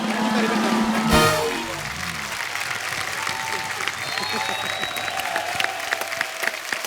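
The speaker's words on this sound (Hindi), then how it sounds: "जोरदार तालियां गोविंदा सर के लिए।" A studio audience at a Hindi comedy show claps loudly for the film star Govinda. A short burst of voice near the start gives way to sustained, dense applause that holds steady for several seconds.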